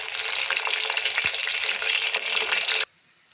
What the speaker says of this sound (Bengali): অল্প অল্প করে দিব, যাতে করে ভালো করে ভাজা হয়